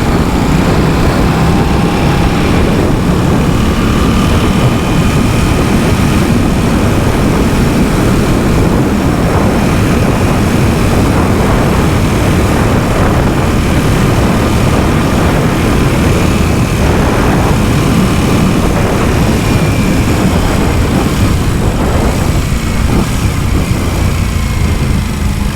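Aprilia RS660 motorcycle engine running steadily and loud, with rev changes as it downshifts using the auto blip, a continuous engine drone with no talk.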